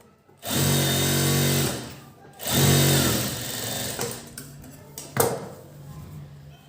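A sewing machine stitches the lining of a blouse sleeve, running loud and close in two long steady bursts, followed by quieter, shorter runs and a sharp mechanical clack.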